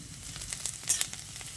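Onions sizzle in hot oil in a pan, with ginger and garlic paste being fried in, a steady close crackle with small pops and light stirring, no voices.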